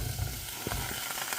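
Chopped carrot and pumpkin fry in butter and garlic, giving a steady close sizzle that runs through the short stretch with a few light clicks from the pan.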